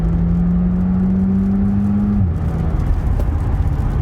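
A modified Audi A4's engine drones loud and close from the start, holding a steady pitch before the note shifts and drops partway through, with no talk over it.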